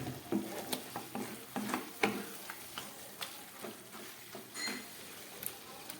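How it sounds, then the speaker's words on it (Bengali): Mutton slowly stir-fried in dried-down spice masala over low gas, with a soft, steady sizzle broken by scattered scraping clicks of a spoon working the meat, faint and close. "এখনও এটাকে আরও কষাবো।"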